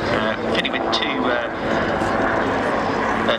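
A Royal Navy Wildcat helicopter with two larger engines flies a display at Waddington air show, its steady engine and rotor roar filling the scene continuously, loud and broadband, with a commentator talking over it.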